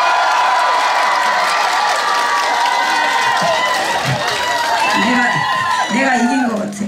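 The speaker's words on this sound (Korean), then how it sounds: "버드니가 잘했다고 하시면 박수 한번 주세요" A crowd at a live stage show in Daejeon applauds and cheers for a competing team member, loud continuous clapping with shouts and a voice breaking through toward the end.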